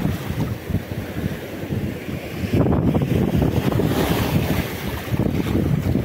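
Sea waves wash steadily around a small fishing boat near the shore, with heavy wind buffeting the microphone throughout.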